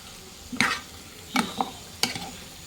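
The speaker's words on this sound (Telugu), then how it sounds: "వేసిన తర్వాత గరిటతో కలుపుకోండి" A ladle stirring chicken curry in a pot, with three distinct scraping clanks spread over a couple of seconds against a faint background sizzle.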